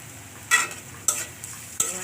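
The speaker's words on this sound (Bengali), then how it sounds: "পেঁয়াজটা মোটামুটি ভাজা হয়ে আসছে এখন আমি চিংড়ি মাছটা দিয়ে দিব" Shrimp and onions frying in a pan for a kalmi greens stir-fry give a continuous low sizzle, broken by three sharp spatula scrapes spaced about half a second apart, close by with no voices.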